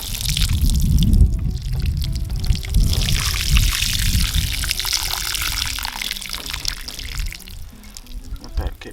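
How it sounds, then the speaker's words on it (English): Water pours steadily onto a newly planted strawberry container in a continuous splashing stream, close and fairly loud, with faint dripping and a voice murmuring briefly underneath. "now we're just gonna go ahead and water this down"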